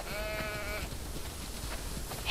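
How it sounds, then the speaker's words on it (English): Sheep bleat in The Last of Us Part 2 video game, one clear drawn-out bleat up front over a low ambient rumble, with a few fainter calls after. "We definitely have way too many sheep."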